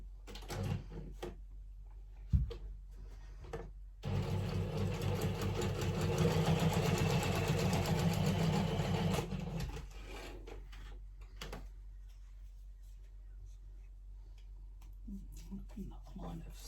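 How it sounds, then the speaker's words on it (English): A sewing machine runs in one steady stretch of about five seconds, stitching paper pages for a handmade junk journal. Quieter handling noises come before and after the run. "I might just put that on the sewing machine, so I'll just pop over here for a moment and put this through just to sew it all onto place"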